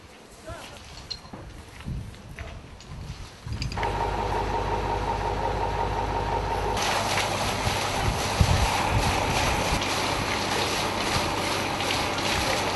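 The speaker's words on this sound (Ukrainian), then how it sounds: "Зараз ви бачите, як водою промивають зливну каналізацію." Water rushes loudly as a storm sewer is flushed out, a steady roaring surge that starts abruptly a few seconds in and builds further, with a voice talking over it.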